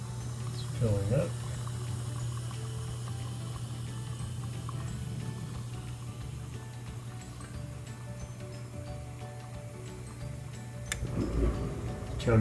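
Water pouring in as a Bosch dishwasher fills, a steady low rushing hum held through the whole stretch, with a brief louder swell near the start and again near the end.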